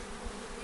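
Honey bees buzzing around an opened, extracted beehive with honey-filled combs, a dense continuous drone of many insects up close, steady and unbroken with no voices.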